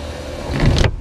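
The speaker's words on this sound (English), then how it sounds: "you got a juddering sunroof on this car" An electric sunroof motor on a Toyota Yaris whirring close up with an uneven, juddering drone that swells briefly before cutting off abruptly.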